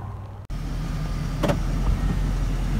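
A van cruising the Loop Drive past lava formations at Craters of the Moon, Idaho: steady low road and engine rumble from inside the cabin, with a brief dropout near the start.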